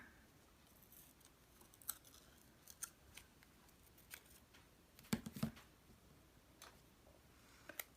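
Scissors trim around a paper doll cut from a magazine, with soft, sparse snips and clicks at irregular intervals. A few sharper cuts come close together partway through, heard alone in a quiet room.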